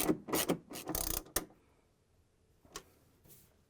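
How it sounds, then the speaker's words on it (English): A 10mm socket wrench tightening screws on the top of a Whirlpool/KitchenAid/Maytag washer, giving a quick burst of ratcheting clicks, then quiet, then a couple of isolated clicks, close and fairly faint. "to tighten it, I'm going to use the 10mm socket wrench"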